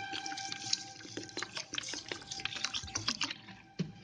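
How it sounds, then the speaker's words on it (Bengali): Water poured onto sugar in a pan to make syrup for moong dal halwa, a quiet close trickle and patter of droplets with small splashes, no talking. "এর মধ্যে জল দিলাম"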